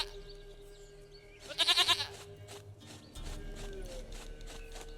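A goat in The Witcher 3 game world gives a short, loud, wavering bleat near the start, set against a quiet ambient bed that later swells into a low rumble.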